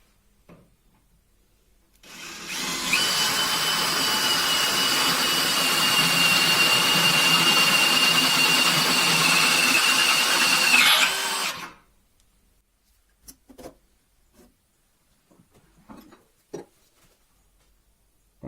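A DeWalt power drill bores through wood, first with a thinner bit, whining steadily and loudly for about ten seconds before stopping, followed by a few faint clicks and handling noises.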